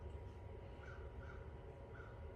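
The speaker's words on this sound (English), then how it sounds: "but it's definitely a crow, which is interesting." Crow cawing outside, a few faint, distant calls spaced apart under a loud, steady background rumble indoors, with no talk.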